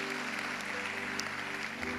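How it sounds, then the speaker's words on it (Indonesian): An audience in a church service claps loudly and continuously for a couple of seconds, a dense wash of applause with no talk over it. "Kasih tepuk tangan yang paling meriah, tepuk tangan yang paling dahsyat."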